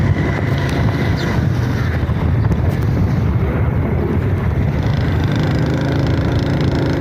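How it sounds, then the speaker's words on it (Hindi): Steady, loud wind roar buffets the microphone on a motorcycle ride through the streets of Karachi, a dense continuous rush with no pauses. "आज हवा की गड़गड़ाहट सुन रही होगी आपको।"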